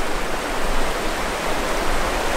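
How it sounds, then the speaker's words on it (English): Bullion Creek running high with muddy water, a loud, unbroken broadband rush of churning current close by, steady from start to end with no voices. "That's a lot of muddy water coming down."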